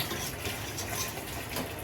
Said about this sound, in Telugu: ఒక పావు గ్లాసు నీళ్ళు వేసి గ్రేవీ కర్రీ కింద అయితే ఈ కూర అనేది చేసుకుంటానండి